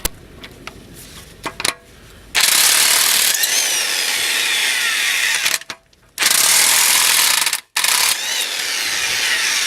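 Ratchet wrench loosening four 19 mm bolts on a 240sx, with a few quiet clicks first and then long bursts of rapid, loud ratcheting close by, broken by brief pauses.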